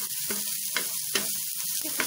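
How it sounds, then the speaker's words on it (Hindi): Finely chopped bell pepper frying in a pan, a close, steady sizzle punctuated by several evenly spaced stirring strokes, no voices. "इसमें शिमला मिर्च डाल देंगे, एक बारीक कटी हुई। इसको बस 1 मिनट के लिए फ्राई कर लेंगे।"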